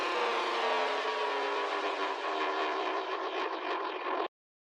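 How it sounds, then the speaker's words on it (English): A noisy synthesized sound effect with LFO modulation and a bit of overdrive swells, roaring and pulsing steadily like a passing engine before cutting off abruptly, heard alone and fairly loud. "So we have this LFO synthy kind of effect with a bit of overdrive"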